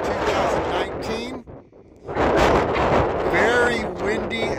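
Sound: strong wind

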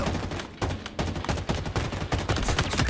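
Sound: gunfire in the video game Halo Infinite

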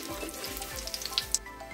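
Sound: panch phoron spices frying in oil, being stirred

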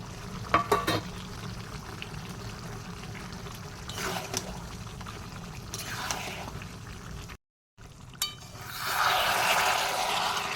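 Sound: onion paste frying and being stirred in a pan

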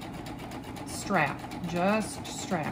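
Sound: Baby Lock serger stitching knit fabric

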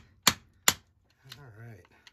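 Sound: hammering welds while scrapping an electronics unit

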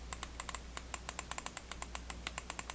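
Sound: Titan GX Air mouse switch clicks

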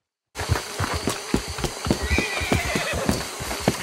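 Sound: horse neighing in Red Dead Redemption video game

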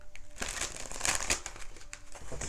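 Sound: shuffling oracle cards

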